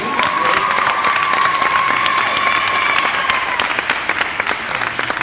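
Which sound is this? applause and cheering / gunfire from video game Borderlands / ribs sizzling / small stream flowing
applause and cheering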